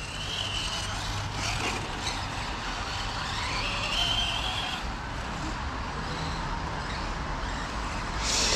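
A Losi DB10 Pro RC desert buggy running on a dirt track, a faint high electric whine rising and falling as it accelerates and passes, over a steady outdoor background hum.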